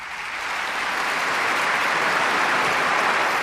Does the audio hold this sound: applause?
yes